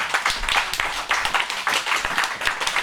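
A church congregation claps and applauds to acclaim the Lord, a dense, steady patter of many hands, moderately loud and continuous throughout.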